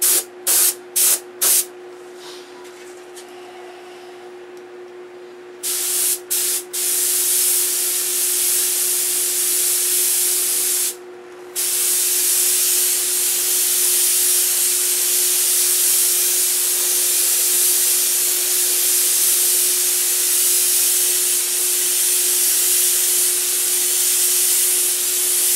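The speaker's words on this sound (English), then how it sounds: "Compressor's running out of air." A compressor-fed airbrush sprays paint onto a P-47 model in a steady, close hiss that runs almost continuously, after a few short opening bursts and one brief pause.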